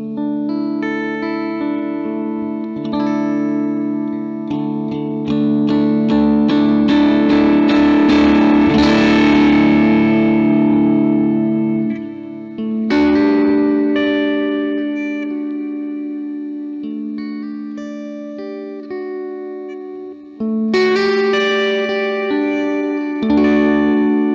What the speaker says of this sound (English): if you play normal, you get this ever so slightly overdriven sound